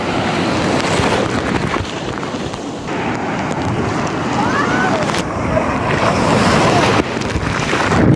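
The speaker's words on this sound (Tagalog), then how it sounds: "Sobrang lakas ng alon" Strong sea waves at a beach resort on Nakar Beach wash and crash continuously for the whole stretch, loud and broadband, with wind buffeting the microphone and no speech.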